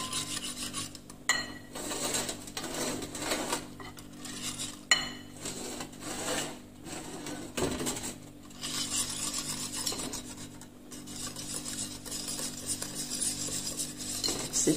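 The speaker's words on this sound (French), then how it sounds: "Ensuite, je vais mettre la farine. Je vais mettre au fur et à mesure." Crêpe batter being stirred by hand as flour is added bit by bit for sweet vanilla crêpes, a steady close scraping and rubbing of utensil against bowl that keeps on with brief pauses, no voices.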